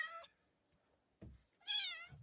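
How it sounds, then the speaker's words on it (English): A visiting cat meows nearby, two clear meows separated by a brief thump, loud and close in a quiet room. "Well, I got a cat coming to visit me."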